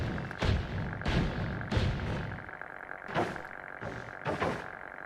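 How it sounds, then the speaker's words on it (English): Stacked stone tablets in the Noita video game bump against each other, giving short, rough buzzing bursts that come in an uneven series over a quiet background. "you can hear the buzzing sound"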